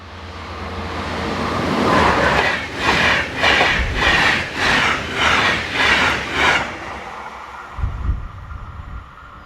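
DB class 101 electric locomotive 101017 passes westbound at close to 160 km/h on a main line, a loud rushing roar with a rhythmic series of wheel and car pulses that swells then fades, followed by a low thump.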